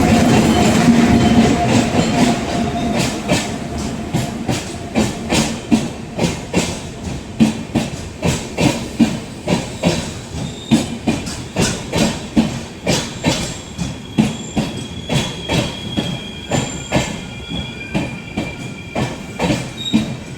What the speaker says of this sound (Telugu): ఇప్పుడే రైల్వే స్టేషన్కి వచ్చినండి.